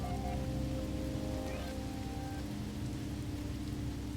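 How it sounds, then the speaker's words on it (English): Toxic rain on a planet in the video game No Man's Sky patters steadily against surfaces, a continuous close hiss of drops layered over a low hum of game ambience and tones. "Okay, so we got rain."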